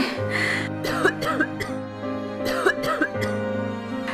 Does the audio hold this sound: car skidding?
no